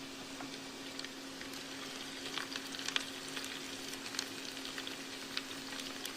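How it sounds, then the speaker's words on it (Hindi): Chopped onion fries in a pan on an induction hob for spinach with meat, a soft continuous sizzle with occasional crackles and light stirring clicks, steady and fairly quiet with no talking. "प्याज को थोड़ा गोल्डन ब्राउन होने देंगे।"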